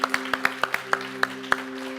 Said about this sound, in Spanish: ¿Qué tal si le damos un aplauso a la familia Torres y damos gracias?